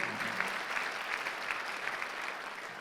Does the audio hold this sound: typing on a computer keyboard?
no